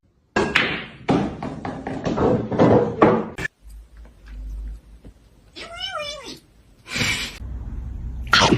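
A house cat lets out a single rising-and-falling meow after a stretch of a person talking, with a soft thud and more speech following in a quiet indoor room.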